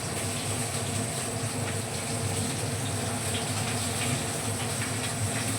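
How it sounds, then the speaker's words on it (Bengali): Small pieces of fish frying in a pan of oil give off a steady, loud, dense sizzle that holds at an even level from start to finish, with no talking over it. "মাছটা ভেজে নিচ্ছি, মাছটা আমি ছোটো ছোটো করে টুকরো করে কেটে নিয়ে ভাজছি।"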